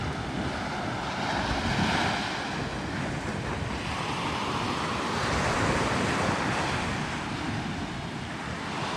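Ocean waves wash steadily onto the north beach of Gili Meno, Indonesia, a continuous surf roar with gusty wind buffeting the microphone and no voices.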